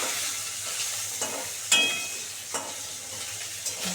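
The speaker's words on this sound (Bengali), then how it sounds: "মাছটা ভালো করে সুন্দর করে ভাজা হয়ে যাবে একদম মুচমুচ মুচমুচ করে" Fish frying in a pan for a tangy summer dish gives a continuous close hiss of hot oil, with a few spatula scrapes and taps breaking through the steady sizzle.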